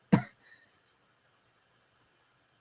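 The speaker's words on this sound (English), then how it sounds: "He's coughing." A man coughs once, a short, sharp burst up close, followed by a faint small catch, then near silence.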